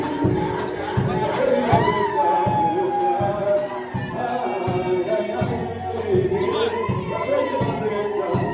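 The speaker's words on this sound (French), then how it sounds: "Et pendant qu'ils montent, nous acclamons, nous les encourageons encore une fois." Wedding guests cheer, shout and whoop for the couple, Gauthier and Deborah, in a lively, sustained crowd noise with a regular pulsing beat running through it.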